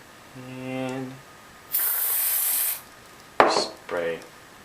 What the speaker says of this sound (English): spray the crap out of it inside